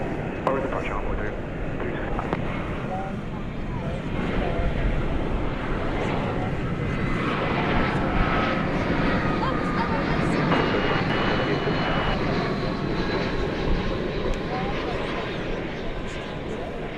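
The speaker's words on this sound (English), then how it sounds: "A little wobble after the liftoff there." An airliner lifts off from the runway at DFW Airport with a broad, steady jet roar heard from a distance, swelling slightly through the middle, while a voice talks over it.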